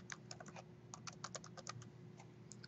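Quick, light clicking of keys on a computer keyboard, irregular bursts of close typing over a faint steady hum.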